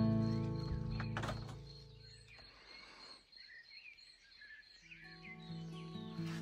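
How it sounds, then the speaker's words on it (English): Faint bird chirps and short song phrases outdoors at a shell house in Palamartsa, scattered over a quiet background with some low rumble and knocks at the start. "Nice, just the sound of bird song."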